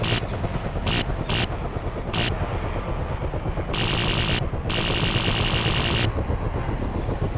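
Machine gun fire from a helicopter door gunner in a military video game, rapid bursts cutting in and out over a steady loud rotor and engine drone, several bursts across the stretch.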